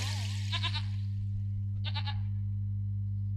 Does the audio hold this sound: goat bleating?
yes